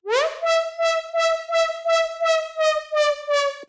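A Serum saw-wave synth run through tube distortion and reverb holds one bright, buzzy note that pulses in a steady rhythm of about ten beats. The note slides up at the start and stays upfront and loud throughout.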